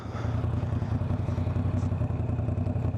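A Moto Guzzi V9 Bobber motorcycle engine runs steadily and close, a dense low rumble with a throbbing pulse and light mechanical clatter, no voices over it.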